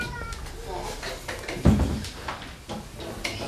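A diabetic cat at the vet gives a short, strained meow partway through while being lifted from a basket, amid handling and rustling noises close by.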